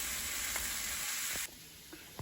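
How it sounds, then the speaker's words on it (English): Kielbasa sizzles and fries in a pan, a steady loud hiss that drops suddenly to a quieter crackle, with a few soft clicks and no voices. "and you can already hear it sizzling."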